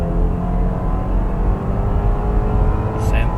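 A tuned BMW F10 520i accelerates in 4th gear, a steady loud engine drone with a rising tonal whine heard from inside the cabin, and a brief voice near the end.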